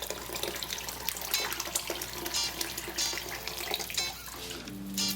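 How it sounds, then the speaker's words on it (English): Water is poured into a hot pan of stir-fried glass noodles, a close, continuous splashing hiss with sizzling bursts that lasts the whole stretch, without talk. "I'm going to add water now."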